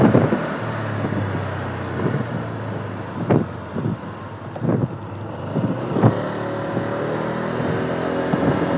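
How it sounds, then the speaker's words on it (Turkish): A Honda SH 125 scooter rides and accelerates; its quiet engine drone sits under heavy wind rush, with a few louder thumps and gusts along the way. "Yine motor sesi Honda'nın klasik motor sesi sessiz"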